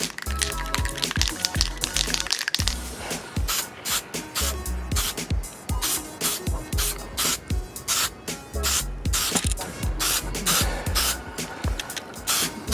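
Primer sprayed from an aerosol can onto a car's front lip comes through as rapid, close hissing bursts in a steady rhythm, many short sprays with brief gaps and no talking.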